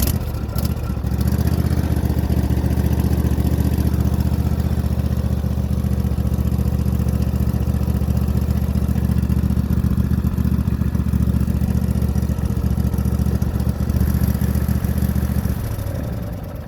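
A trailer-towing machine with a fault that fouls its combustion chamber with oil cold starts with a brief crank, then settles into a loud, steady, rumbling engine run that continues without pause and fades slightly at the end.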